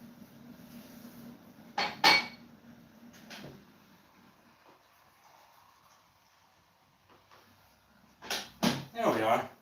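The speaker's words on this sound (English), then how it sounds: "I'm going to make a cup of tea." Dishes and cutlery clink and clatter in short bursts while a cup of tea is made at home, a couple of sharp knocks early, then a louder cluster of clinks at the end with quiet gaps between.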